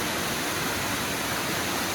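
Water rushes down a hillside near the Barondevi temple in Virar during the rainy season: a loud, steady roar of flowing water that fills the whole stretch with no voices.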